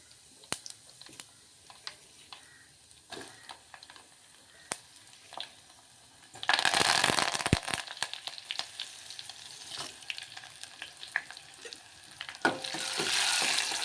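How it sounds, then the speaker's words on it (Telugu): Spices for a mango dal tadka drop into hot oil. Scattered light clicks give way to a sudden loud sizzle that crackles on, then a second surge of frying hiss near the end, with no talking. "తాలింపు వేసేసుకుందాం."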